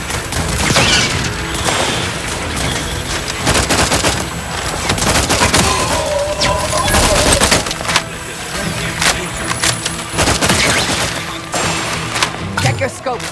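Gunfire in The Outer Worlds 2, loud repeated bursts and single shots cracking in irregular rhythm close by, layered over a busy combat soundscape.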